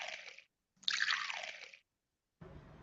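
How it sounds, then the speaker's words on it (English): Water is poured into laboratory test tubes for a science experiment, heard as two short close trickling splashes separated by silence, followed by a brief burst of duller noise. "So let us add water."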